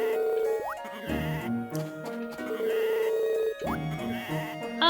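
Sheep bleating inside a farming video game, several strained calls rising and falling over a steady bed of background music and chiming tones, fairly loud and close, with no talking.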